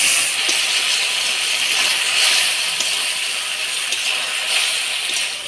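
Taro stolons are stir-fried with spice paste and a splash of water from rinsing the spice bowl, producing a loud, steady steamy hiss and sizzle throughout with no talking.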